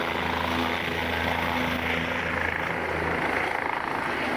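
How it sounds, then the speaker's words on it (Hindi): A helicopter flying a bride away at her wedding farewell in Uttar Pradesh, a loud continuous rotor and engine roar that stays steady and close throughout, with no voices over it. "बताया जा रहा है कि दुल्हन की हेलीकॉप्टर से विदाई पर 5 लाख रुपए खर्च आया।"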